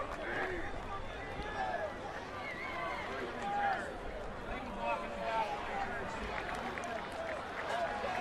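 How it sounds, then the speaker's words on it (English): A subdued stadium crowd murmurs at the 2012 Division III national championship football game between Mary Hardin-Baylor and Mount Union in Alliance, Ohio, a low, even hubbub lying beneath continuous talking from a commentator. "So a subdued crowd here in Alliance, Ohio for these Purple Raider football games"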